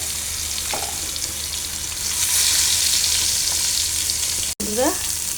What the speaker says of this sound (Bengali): আমি এখন বেগুনটাকে সরিষার তেলের মধ্যে ভেজে নিচ্ছি